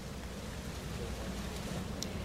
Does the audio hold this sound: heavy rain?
yes